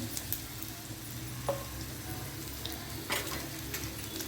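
Crushed garlic and asafoetida sizzling in hot oil for a raw banana vegetable dish, a soft continuous frying hiss with a couple of brief clicks of stirring.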